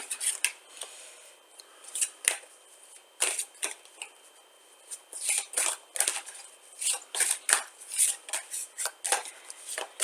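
An oracle or tarot card drawn from the deck: crisp, close papery flicks, slides and snaps of card stock, repeated in irregular bursts with brief pauses and no talking.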